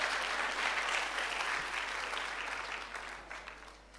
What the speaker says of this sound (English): I think I deserve a round of applause just for being able to come and stand